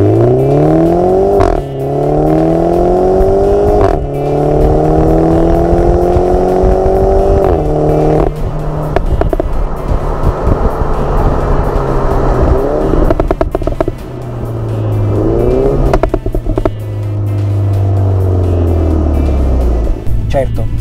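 A Mini Clubman John Cooper Works engine revs hard through paddle-shifted gear changes in sport mode, pitch climbing and dropping at each shift, loud and close with a steady drone settling toward the end.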